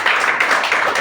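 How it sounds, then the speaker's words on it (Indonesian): Steady applause from a classroom group during an Islamic religious education lesson on zakat fitrah, dense continuous clapping at close range with no talk over it. "tepuk tangan untuk kita semua"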